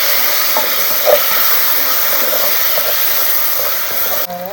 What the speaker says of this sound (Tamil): எண்ணெய் ஊற்றி வெங்காயம் இஞ்சி பூண்டு பேஸ்ட் இது ரெண்டுத்தையும் போட்டு நல்லா வதக்கிக்கிட்டேன்